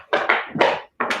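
Hollow thumps and knocks in quick, uneven bursts as a dog rummages for a bone in a toy box close by.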